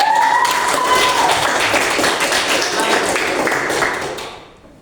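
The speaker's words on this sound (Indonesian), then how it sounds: "Saya berikan aplaus selamat semua" A classroom of students applauds in a dense burst of clapping that holds steady, then tapers off toward the end.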